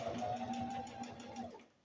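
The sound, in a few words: sewing machine top stitching corners of wool flannel diaper cover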